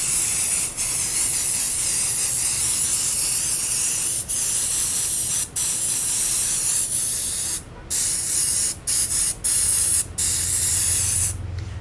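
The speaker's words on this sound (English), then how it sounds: "So I'm spraying, shaking" An aerosol can sprays down through a stencil onto clothing in long, steady hissing bursts, broken by a few brief pauses near the end.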